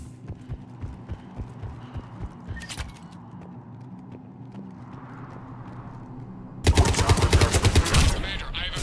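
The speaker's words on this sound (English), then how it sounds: "The cannon fire is clearing the way." Cannon fire in the video game Mass Effect 3, scattered thuds and pops from a battle, then a dense, loud burst of rapid firing near the end, without speech.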